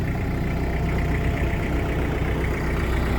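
A used Mitsubishi MT251 mini tractor engine chugs steadily with a low, even rumble throughout, close by and unbroken, with no voices.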